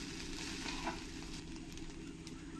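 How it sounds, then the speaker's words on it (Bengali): Paneer fried rice stirred in a hot pan gives a steady, continuous close sizzle with soft scraping from the stirring, with no voices. "এখন আমি ভালো করে একবার নাড়িয়ে দেব"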